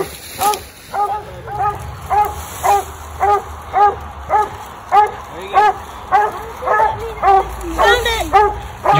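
Coon hounds on a night raccoon hunt bay and yip in a steady, evenly spaced rhythm of about one bark per half second, fairly close and loud, with people talking faintly underneath.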